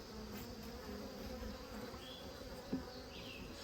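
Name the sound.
honeybees in rescued hives building comb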